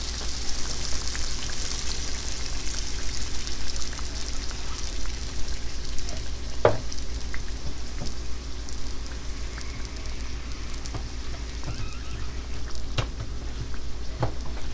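Meat pie frying in a pan of hot oil, a steady close crackling sizzle throughout with a few sharper pops, no voices.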